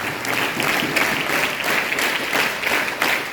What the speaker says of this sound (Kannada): ಒಂದ್ಸರಿ ಜೋರಾದ ಚಪ್ಪಾಳೆ